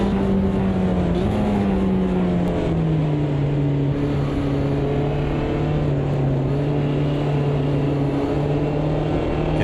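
A Mini race car engine in Automobilista 2 at Guaporé drones loudly and steadily with a buzzing tone, pitch shifting slightly through gear changes, close and continuous with no talking.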